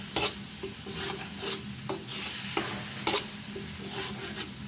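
Spice paste for a Maid fish bhuna fries in a pan with a steady sizzle, while a spoon stirs and scrapes it in regular strokes every second or so. The sound is close and clear, with no voices.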